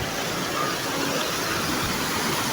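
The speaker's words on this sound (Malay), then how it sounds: "air terjun raja ni kawan desa Ulu Maras ni ada tiga tingkat" A three-tiered waterfall at Ulu Maras village roars as a steady, dense wash of falling water, continuous and loud with no talk over it.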